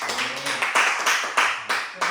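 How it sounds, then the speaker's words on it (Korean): A church congregation at a Korean Sunday worship service claps together in a few loud, rhythmic bursts, with voices mixed in between the claps. "그 구원의 축복을 주신 우리 하나님께 영광의 박수 한번 하겠습니다."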